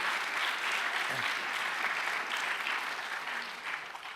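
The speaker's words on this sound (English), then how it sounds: "applaud again now to thank Roger." A conference audience breaks into sustained applause, many hands clapping densely in a large hall before the sound tapers off toward the end.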